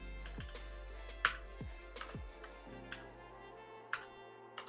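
Someone types steadily on a computer keyboard while programming, with quick irregular key clicks and occasional louder keystrokes over a faint steady hum, no voices.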